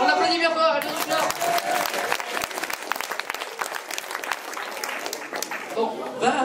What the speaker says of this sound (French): On applaudit bien fort, elle vient du Schnorr.